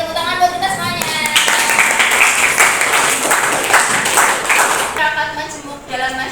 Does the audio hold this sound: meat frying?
no